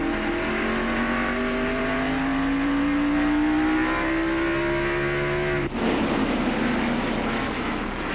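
NASCAR stock cars racing at Martinsville in the 1993 Goody's 500 make loud, droning V8 engine notes. The pitch climbs steadily as the pack passes close, then breaks off abruptly into a rougher roar.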